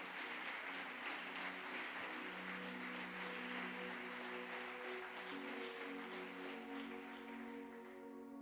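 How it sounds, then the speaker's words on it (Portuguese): Church congregation applauding during a weeknight worship service, a steady dense wash of clapping that continues for several seconds over sustained organ or keyboard tones, fading slightly at the end. "Você pode aplaudir o Senhor,"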